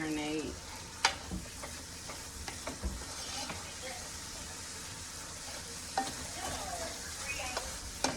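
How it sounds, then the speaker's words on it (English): Chicken lettuce wrap filling simmers in a pan with a soft, steady sizzle and a few light clicks and knocks. The sound is quiet and continuous, with no talking. "I'm gonna like simmer it down so it can just like cook and marinate"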